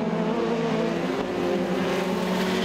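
National 4s race cars roar around the dirt oval at Kingaroy Speedway, a continuous loud engine drone blending several cars at racing speed, steady and distant-sounding throughout.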